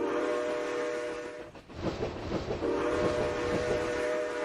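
A locomotive whistle in the Trainz 2019 railroad simulator on the C&O Hinton route sounds as a steady, moderately loud tone over rumbling train noise, with a brief dip midway before the rolling sound continues.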